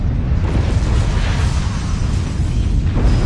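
A massive explosion near planet Earth in the video game Asura's Wrath, a loud, sustained roaring blast with deep rumbling that fills the whole stretch without pause.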